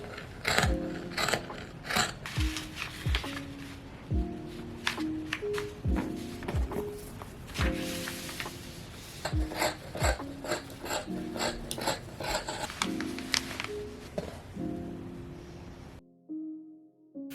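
Scissors cut fabric for a cropped spring jacket in a steady run of close, crunchy snips and rasping slides over soft background music, ending in a short quiet moment.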